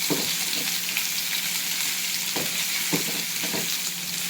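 Potato pieces sautéing gently on low gas after green chillies, for sabudana khichdi; a steady soft sizzle carries throughout, with a few light scraping stirs.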